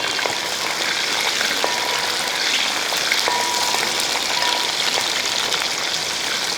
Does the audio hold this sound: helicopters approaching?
no